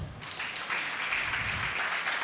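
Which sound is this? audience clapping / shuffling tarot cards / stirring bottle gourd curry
audience clapping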